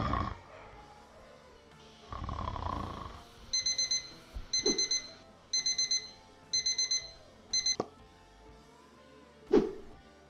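Alarm clock going off in a Minecraft animation, a bright electronic beeping in five quick bursts of rapid pulses, fairly loud over background sound effects and a short rough noise burst earlier.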